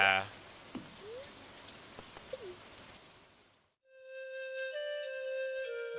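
Steady rain patters in Stardew Valley for several seconds with a faint soft sound or two on top, then cuts out and a gentle flute melody plays alone.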